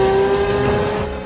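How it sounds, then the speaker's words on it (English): Lexus LFA sports car's 4.8-litre engine revving, a loud, high, sustained tonal wail close by that holds steady and then fades slightly at the end. "The most amazing thing is the way it revs."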